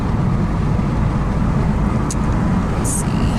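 A car drives along a road past a police station, a steady broadband rumble of engine and tyre noise from inside the cabin, constant and fairly loud, with a couple of faint brief high clicks.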